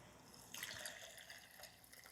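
Hot whole-spice chai pours through a strainer into a small pan, a soft close trickle of liquid that swells for about a second and then tapers to light drips.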